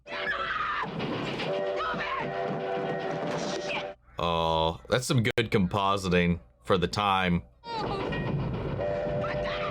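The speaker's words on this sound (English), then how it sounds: "Okay, it's a tiny train at least." A small train from the 1986 film Stand By Me runs along the tracks with a rumbling, clattering movie soundtrack, interrupted midway by someone talking over it.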